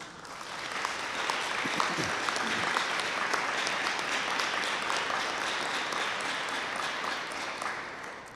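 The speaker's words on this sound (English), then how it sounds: "would you please applaud for the faculty?" An evening commencement audience applauds the faculty with broad, continuous clapping that swells after a quiet start and holds steady, filling the space without any talk over it.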